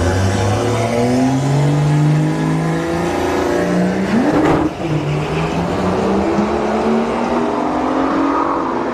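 Drag racing cars at a motorsports park launching side by side, a BMW among them: loud engines rev up and climb through gears in rising, overlapping tones, one car shifting mid-run as the roar carries steadily close by.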